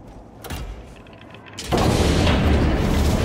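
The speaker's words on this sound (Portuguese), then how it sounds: "Granada de fragmentação." Fragmentation grenade blast in Space Marine 2, a sharp thump early on, then a heavy, loud explosion that swells into a sustained rumbling roar.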